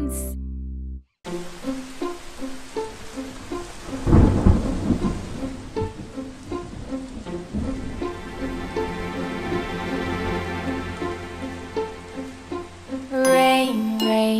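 A thunderstorm with heavy rain, a loud rolling thunder crash early on, then a steady downpour pattering under light chiming music, with a sung nursery rhyme entering near the end.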